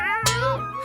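A single drawn-out cat meow, close and clear, rising then falling in pitch.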